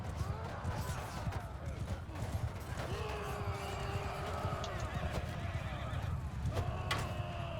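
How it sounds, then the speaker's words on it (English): Horses in Crusader Kings 3 gallop with a steady, busy clatter of hooves, broken by several whinnies and neighs that rise above the constant trampling. "Oh, that feels like a horse race right there."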